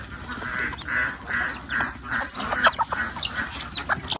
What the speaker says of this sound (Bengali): এটা বিকালবেলার ভিডিও, আমাদের মুরগিগুলোকে খেতে দিচ্ছিলাম।